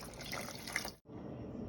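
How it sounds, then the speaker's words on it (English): Water poured into a cooking pot for German goulash, a steady splashing stream running close and fairly loud, breaking off briefly before continuing. "Gonna add probably like 4 cups of water."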